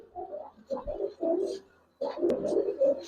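Giribaz and coloring pigeons cooing close by in repeated low, throaty bursts with short pauses between phrases, no talk over them.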